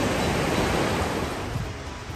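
A small, fast-running river swollen with snow melt rushes steadily in a forested setting, a loud, continuous broadband roar of water close by with no talking.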